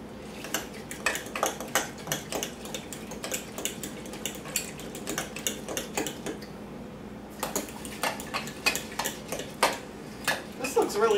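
A spoon stirs and scrapes a cinnamon pre-mix for carrot cake overnight oats in a bowl, making steady, rapid clinking taps against the side, close up and continuous with one short pause.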